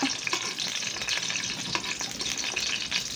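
Cooking oil frying in a pan, a dense continuous sizzle and crackle with scattered pops of spattering, close and fairly loud throughout.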